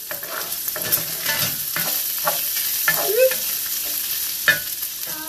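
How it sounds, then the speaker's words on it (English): Bacon sizzles and crackles steadily in a hot pan, with occasional scraping and stirring clatters over the constant frying hiss. "We've got some bacon cooking"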